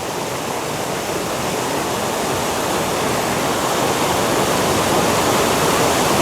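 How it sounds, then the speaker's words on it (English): Glen Falls on North Chickamauga Creek pours over boulders in a steady, loud, unbroken rush of water that stays even throughout, with no voices. "watch the water fall over the boulders"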